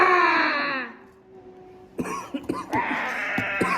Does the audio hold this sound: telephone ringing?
no